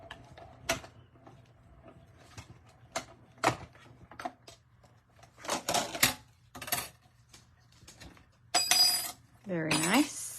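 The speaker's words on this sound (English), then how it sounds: "we're going to put it in our mini emboss machine. And we're going to cut out a pretty little heart." A mini emboss machine cuts a small heart from coral cardstock, producing several short mechanical clicks and cranking bursts that grow busier toward the end, with a brief spoken comment in between.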